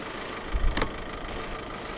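A 2014 Audi A1 Sportback 1.6 TDI diesel engine idles with a low, steady rumble after a brief louder start-up burst near the start.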